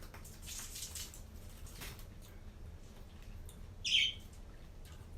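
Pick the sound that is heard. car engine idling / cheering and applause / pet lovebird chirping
pet lovebird chirping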